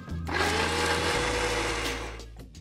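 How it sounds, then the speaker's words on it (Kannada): A mixer grinder whirs loudly, blending carrot and ginger with water into juice, a steady close motor drone that spins down near the end. "ಓಕೆ, ಸೊ ಚೆನ್ನಾಗಿ ಬ್ಲೆಂಡ್ ಆಗಿದೆ ಇಲ್ಲ, ಇದನ್ನು ಸ್ಟ್ರೈನ್ ಮಾಡ್ಕೊಳ್ಳೋಣ"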